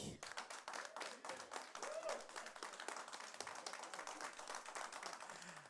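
Studio audience on a French TV variety show applauding as a guest singer is welcomed, a steady dense patter of clapping throughout, moderately loud with crowd noise underneath.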